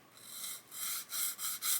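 A 400 grit sanding stick rubs across a flat area of a plastic model kit chassis in repeated rasping strokes, four or five close, steady passes with brief pauses between them.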